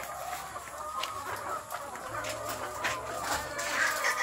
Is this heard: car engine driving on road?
no